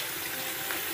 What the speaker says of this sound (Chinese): 我们加水先给它泡洗一下